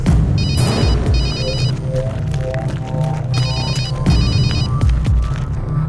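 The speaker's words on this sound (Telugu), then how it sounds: "ఫోన్ తీయండి." A mobile phone ringtone plays loudly and close, repeating beeping ring patterns over a low hum while a voice briefly speaks.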